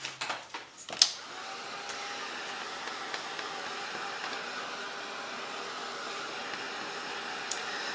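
A hair dryer blows steadily to dry paint on a journal page, running as a close, even whoosh for several seconds after a few sharp clicks and handling knocks at the start.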